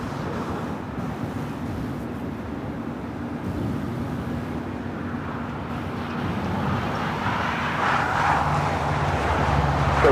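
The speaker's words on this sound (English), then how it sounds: "got that Air Tahiti Nui Dreamliner now rolling down at 25 right" An Air Tahiti Nui Dreamliner rolls down runway 25 right at LAX on its takeoff run, a broad distant jet roar that builds steadily louder toward the end, with wind buffeting the microphone.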